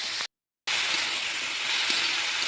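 Pieces of bottle gourd hit a hot pan and hiss in a steady sizzle. The sound breaks off for a moment early on, then continues evenly at moderate loudness.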